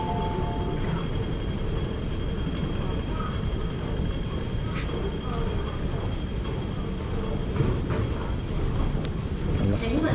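A train rolls through a station in Hong Kong with a steady, loud rumble and a high tonal whine, heard close throughout with faint voices around it.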